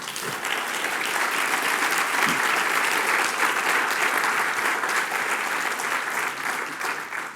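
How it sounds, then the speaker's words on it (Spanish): A church congregation breaks into sustained applause during a sermon, a loud, dense, steady wash of many hands clapping that holds evenly for several seconds before easing slightly at the end. "¿No le das un aplauso al Señor por eso?"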